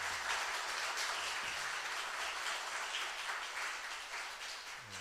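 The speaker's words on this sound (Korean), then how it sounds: "우리 다시 한번 민호 선교사님한테 큰 박수 주시기 바랍니다." A church congregation applauds a missionary drummer at a concert and testimony service, with sustained, fairly distant clapping that holds steady and eases off slightly toward the end.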